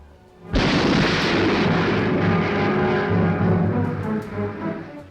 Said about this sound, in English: Miles into the air rises the giant shape of the now historic explosion